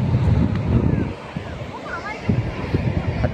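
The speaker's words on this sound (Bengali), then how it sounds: "আর তোমরা কিন্তু সমুদ্রের গর্জনটা শুনতেই পাচ্ছ।" Ocean surf roars steadily along the beach on Henry's Island near Bakkhali, a dense continuous rush heavily buffeted by wind noise on the microphone.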